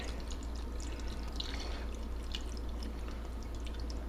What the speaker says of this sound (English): open our tequila and pour that in